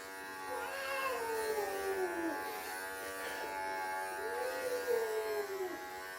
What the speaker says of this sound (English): Always shave up away from the anus.